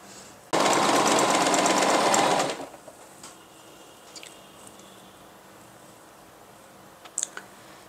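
A sewing machine stitching fabric in a loud continuous burst of about two seconds, then stopping, followed by quiet room tone with a few faint clicks and taps.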